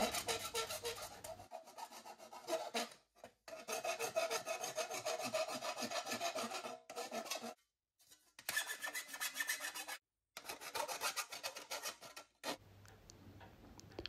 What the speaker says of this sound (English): I go around all the outside edges with a half round file to remove any burrs